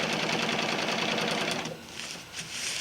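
A sewing machine stitches a hammock underquilt with polyester thread, a fast steady mechanical whirr close up that slows briefly, then runs again.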